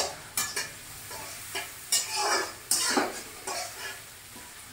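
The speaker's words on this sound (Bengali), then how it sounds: "তো পেঁয়াজটাকে আগে ভালো করে ভাজতে হবে।" Onions frying in a pan for a brinjal and fish dish, stirred in several separate bursts of scraping and clinking against the metal over a soft, steady sizzle, with no talking.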